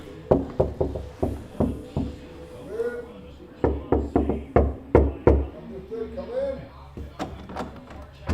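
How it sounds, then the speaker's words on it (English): Knuckles knock on a hotel room door in sharp bursts of several raps, a few volleys repeated over several seconds with short gaps, loud and close, while people talk quietly nearby. "Do you want to knock?"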